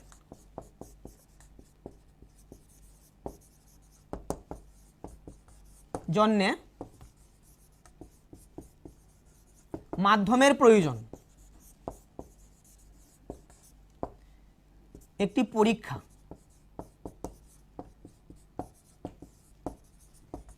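Homework being written out in a classroom: light, scattered pen taps and scratches run throughout, while a teacher's voice speaks in three separate stretches.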